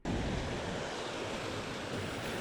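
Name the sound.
stream water flowing into a loch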